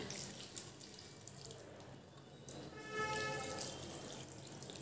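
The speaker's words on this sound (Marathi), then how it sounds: "आता हे मसाल्याच्याच भांड्यामध्ये मी पाणी टाकले." Water pours into a pot of spiced potato curry, starting with a splash partway through and then running in a steady, gurgling stream over quiet background noise.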